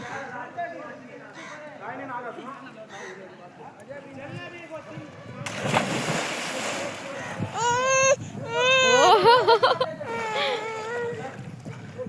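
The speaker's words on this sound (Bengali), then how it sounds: "কাঁদছো কেন?" A child cries on a seaside outing at Bakkhali near the water, with wailing rising loudest in the second half over and between other people's voices.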